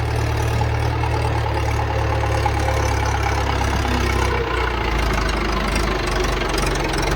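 A tractor engine runs steadily close by, with a continuous low rumble and a knocking idle that stays constant throughout, with no speech over it.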